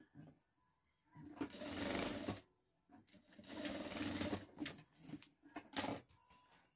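Sewing machine stitching a fabric handbag, quiet and close, in several bursts of rapid whirring stitches separated by short pauses, with a few brief stop-start runs near the end.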